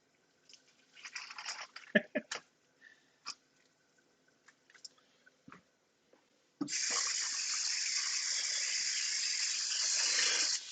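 Hot water gushes steadily from a kitchen tap, starting abruptly after scattered clinks and small handling noises and running loud and unbroken to the end.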